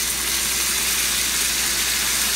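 Lemon slices with vegetables sizzle in a pan during home meal-kit cooking, a steady, dense hiss that holds evenly throughout with no pauses and no talk over it.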